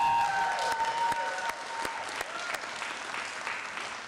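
Applause for a retiree at a city council meeting, a sustained dense round of clapping from a roomful of people, steady and fairly close, with a faint tone and murmur early on.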